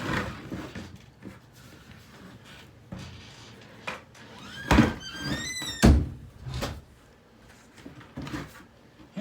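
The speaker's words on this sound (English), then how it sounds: "I'm about to close this door." A door closes with a solid thunk, followed moments later by a second heavy knock, set against quiet room noise and faint rustling during a home demolition.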